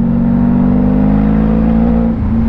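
A motorcycle engine drones loudly nearby in city traffic, holding a steady revving note with a slight drop near the end, with no voices.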